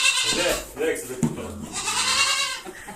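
Goats bleating loudly and repeatedly, close by in a farmyard pen, with a person talking over the calls.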